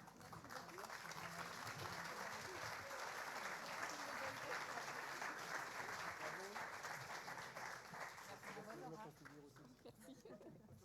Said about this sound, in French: on applaudit Dora